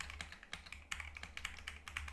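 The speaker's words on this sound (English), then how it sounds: "You can see here I'm typing into a Word document." Typing on a computer keyboard into a Word document: quiet, close key taps in an irregular, fairly quick rhythm over a low background hum, with no voice.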